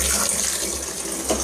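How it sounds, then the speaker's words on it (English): Water rushes steadily into a 100-gallon water drum, a loud, continuous hissing pour with no pauses. "we are filling up our 100-gallon water tank"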